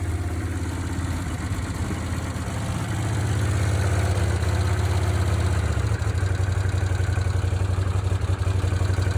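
A Honda CX500 motorcycle engine, left outside for three months, idles steadily close up, a loud, continuous low rumble with a rapid pulsing throb and no voices.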